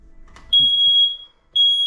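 A smoke detector's test button sets off a shrill electronic beep for about half a second, which breaks off briefly, then starts again, loud and piercing.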